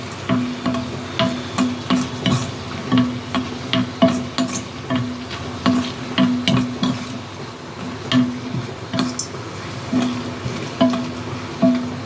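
Buttermilk-soaked chillies (mor milagai) fry in a pan, giving a steady close sizzle with repeated rhythmic scrapes and stirs of a spatula against the pan throughout.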